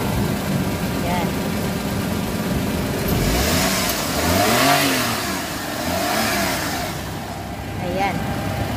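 Japan-surplus Mazda AZ Wagon petrol engine idling, then revved up and back down a couple of times close by, with someone talking over it.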